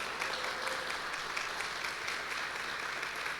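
Congregation applauding together in a church, a steady dense wash of clapping that holds at even loudness throughout with no break.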